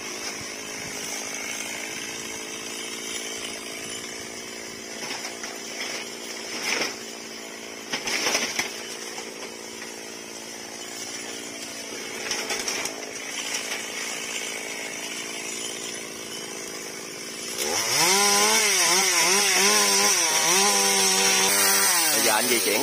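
Chainsaw cutting branches high in a very tall, large white cedar tree, a faint distant engine drone for most of the time before a loud, close, revving roar near the end.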